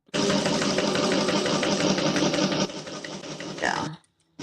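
A sewing machine top stitching down the front of a zipper pouch: a fast, close, steady mechanical whir and needle patter for about four seconds, then an abrupt stop.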